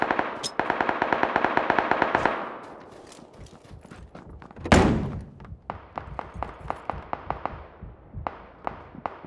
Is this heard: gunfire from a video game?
yes